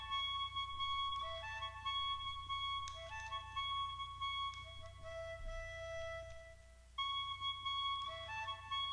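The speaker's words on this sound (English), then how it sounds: "we have the original beat that we made with the toy trumpet." Rap beat built from a $13 toy trumpet, its thin, reedy repeated melodic phrases looping over a low rumbling bass layer, played at a fairly quiet level throughout.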